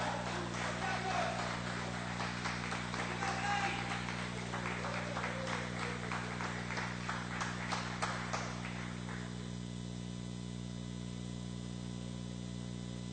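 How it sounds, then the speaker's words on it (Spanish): A church congregation gives a loud, sustained round of applause during a sermon, dense clapping over a steady low hum that fades out after about eight seconds, leaving only the hum. "Dale un aplauso al Señor fuerte."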